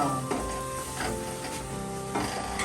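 Tadka tempering sizzling in a pan for a mixed-vegetable sabzi, a continuous close hiss with a steady faint whine underneath and soft swells of crackle every half second or so.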